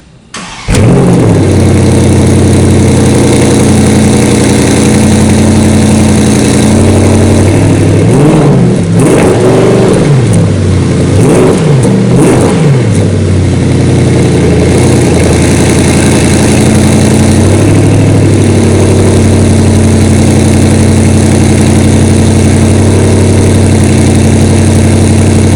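A 2019 Porsche Panamera GTS engine idles loudly and steadily up close, rising in a few short, light revs midway before settling back to a smooth idle.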